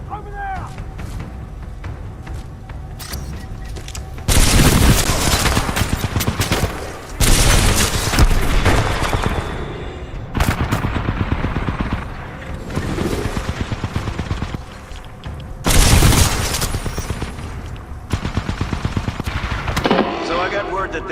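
Titanfall 2 campaign combat brings bursts of rapid automatic gunfire and heavy booming shots in loud clusters, separated by quieter stretches of battle noise, with voices heard between them.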